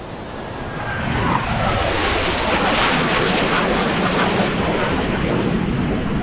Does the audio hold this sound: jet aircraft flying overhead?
yes